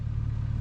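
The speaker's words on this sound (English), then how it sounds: "So I'm leaving the car running." A car engine idling nearby, a low steady hum with a faint regular pulse, brief and unchanging.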